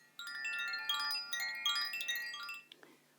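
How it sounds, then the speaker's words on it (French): A melodic electronic ringtone-style timer chime plays a short tinkling sequence of notes during a restorative yoga session, fairly quiet, then fades away. "On a entendu la sonnerie"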